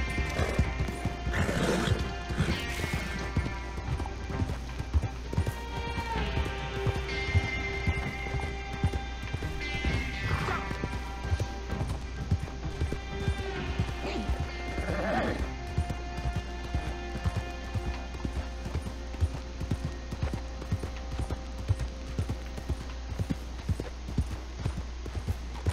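Horse hooves clip-clopping at a gallop with occasional whinnies in Red Dead Online, a steady rhythmic beat under game music and mechanical clatter, with no talk.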